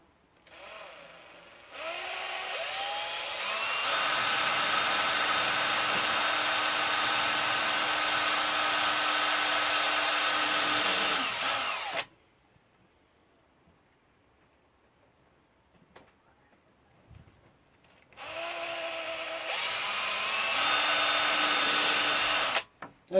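A power drill bores into wood on an allotment during brassica cage building. It whines loudly and steadily for about ten seconds, stops, and after a quiet pause starts again for a second run.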